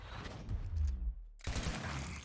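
Gunfire from the video game Gears Tactics: a rumbling run of shots that stops abruptly, then another burst of fire close up with no talk.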